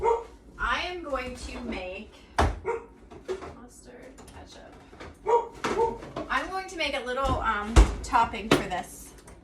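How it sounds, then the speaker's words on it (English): A dog barks several times in a home kitchen while a person talks through meatloaf preparation, the sharp barks cutting in between and over the speech. "That's my dog."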